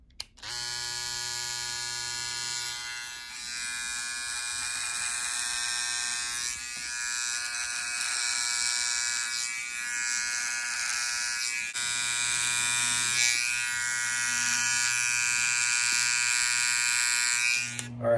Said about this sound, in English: But now is the time to shave off the facial hair.